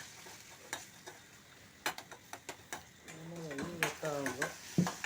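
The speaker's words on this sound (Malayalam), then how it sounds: "ഈ ഒരു കണ്ടീഷനായി വരുന്ന സമയത്ത് നമ്മൾക്ക് അതിലേക്ക് ആ തക്കാളി പൊടിയായി അരിഞ്ഞത് അതും കൂടി ചേർത്ത് കൊടുക്കുക." Chopped tomato being sautéed in a pan for egg curry: scattered stirring clicks and scrapes over a soft sizzle, near and moderately loud, with a brief voice-like tone partway through.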